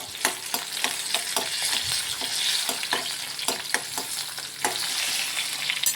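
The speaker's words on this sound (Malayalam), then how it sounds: "നല്ലപോലെ വഴറ്റണം." Food sautés in a hot pan with a steady sizzle, while a utensil scrapes and stirs in repeated sharp strokes close by, with no voices.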